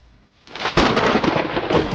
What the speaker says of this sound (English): Watch out for the random lightning strikes.